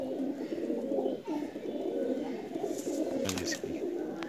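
Nil dum pigeon chicks cooing softly at a Pakistani home loft, a steady low murmur throughout with a few brighter bird chirps near the end.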